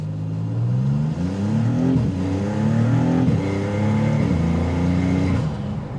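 A Maserati MC20 Cielo sprints from 0 to 60, the engine roaring up through rapid gear changes in a loud, steady rising pattern heard from inside the car.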